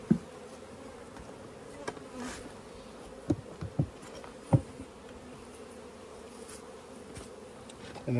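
Honeybees buzz around opened beehives, a soft, steady hum of many wings with a few brief closer passes and light knocks.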